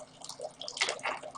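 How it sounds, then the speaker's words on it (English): Water draining out of an ND YAG tattoo-removal laser machine, a trickling, splashing flow with faint dripping that swells partway through, heard alone and close. "it's very important to make sure you drain the machine"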